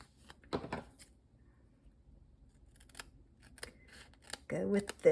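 Scissors cut through card stock in a few separate crisp snips, close and quiet, spaced apart by near silence, with a voice speaking faintly at times.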